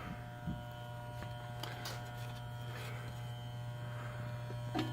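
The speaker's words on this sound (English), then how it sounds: "That's the lock coil on." Steady electrical buzz from an energized lock coil inside a Williams Action Baseball electromechanical arcade machine that won't start a game, a constant hum running alone throughout with a few faint clicks.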